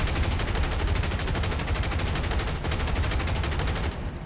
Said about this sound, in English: Thankfully, we have back guns for this ordeal.